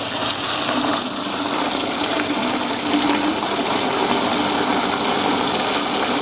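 An automatic submersible water pump switched on and running, giving a continuous loud whirring hum mixed with rushing, gushing water, steady throughout with no speech.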